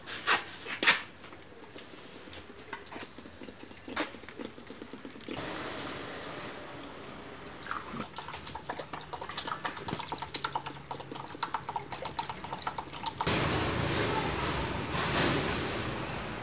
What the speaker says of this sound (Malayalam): പിന്നെ ഇനി അത് വെള്ളം ഒഴിക്കാം